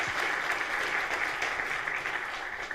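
An audience bursts into dense, steady applause that holds loud throughout and eases slightly at the end.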